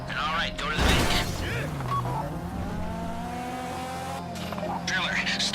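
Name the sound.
car driving in the video game GTA Online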